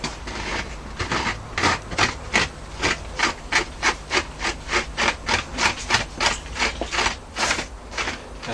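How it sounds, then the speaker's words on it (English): An old cabinet scraper drawn gently over a birch bark hip flask, giving a steady run of close, even rasping strokes, roughly two per second, with no talk. "I'm just using an old cabinet scraper for this one, only gently"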